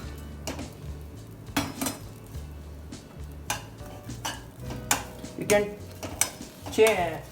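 Bread pieces crisp in butter or oil in a pan for a Mediterranean salad, with repeated clinks and scrapes of a utensil stirring against the pan over a soft sizzle, close and fairly loud.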